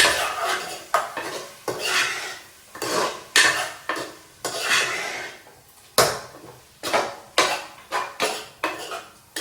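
Prawns being mixed with masala in a bowl, the spoon scraping and clinking against the bowl in repeated bursts of stirring, close and fairly loud, with no talking.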